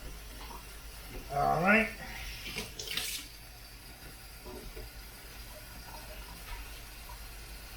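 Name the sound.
filling brewing pot with cold tap water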